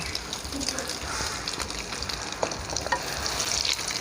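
A crispy instant-noodle omelette fries in a pan over medium heat, giving a dense, steady sizzle close by with small crackles and pops, while someone talks softly over it.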